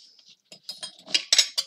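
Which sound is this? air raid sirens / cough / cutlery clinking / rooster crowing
cutlery clinking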